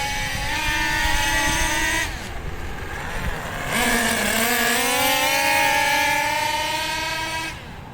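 OFNA Titan Twin RC car with a Track Stars turbo, its nitro engine screaming at full throttle, a loud buzzing whine that rises and falls in pitch as it accelerates, eases off and revs up again, continuous and close.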